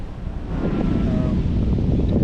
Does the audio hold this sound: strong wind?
yes